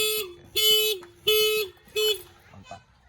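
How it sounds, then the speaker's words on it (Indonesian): A motorcycle anti-theft alarm blares in four loud, repeating bursts, each a warbling siren tone, followed by a softer trailing beep. "5 detik alarm berbunyi"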